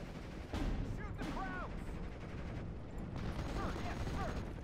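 Rifle squads and a .30 cal machine gun firing in the WWII strategy game Steel Division: Normandy 44, a continuous crackle of scattered gunshots with occasional whistling tones over a dense battle bed.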